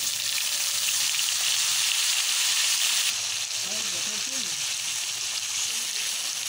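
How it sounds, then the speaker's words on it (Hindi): Chopped green tomatoes drop into a hot oiled pan for a vegetable curry, setting off a steady, close broadband sizzle that continues throughout, with faint stirring and brief soft voice-like sounds midway. "चलिए इस समय मैं टमाटर को भी डाल दे रही हूँ।"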